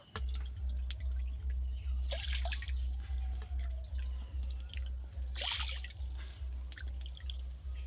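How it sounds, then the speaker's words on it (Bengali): Water is poured by the bowlful into a cooking pot for a rice-flour papad batter: two short splashing pours stand out over a faint, steady rhythmic hum, with scattered light drips between them. "এখানে আমি 4 বাটি জল দিয়ে দিয়েছি"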